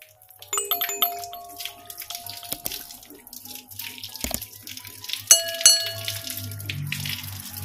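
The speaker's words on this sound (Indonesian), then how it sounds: "kita masukkan ke dalamnya sambil kita kocok-kocok seperti ini di aliran air yang mengalir ya" Running tap water splashes over a tobacco pipe as it is shaken and rinsed under the flow, with light clinks and knocks against the sink, close and steady without speech.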